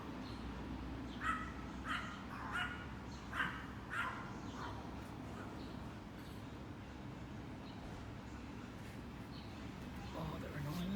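Dogs bark in a short run of sharp, somewhat distant yaps over the first few seconds, then fall quiet against a low, steady background rumble.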